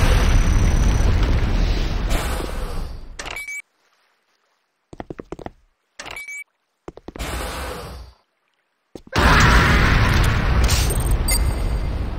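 A Nod structure blowing up in the Renegade Command & Conquer game: loud, rumbling explosion blasts broken by sudden silent gaps, ending in a big roaring burst.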